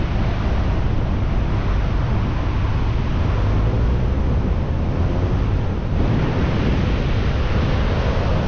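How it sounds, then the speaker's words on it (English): Massive ocean waves and heavy swells pound the shore at Umkomaas in rough weather, a loud, continuous roar of surf with wind noise buffeting the microphone. "massive waves picking up"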